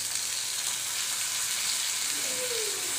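Potatoes and drumsticks sauté in a pan of hot oil for a Tamil drumstick kuzhambu, giving a steady close sizzle and crackle with a faint scrape of stirring near the end.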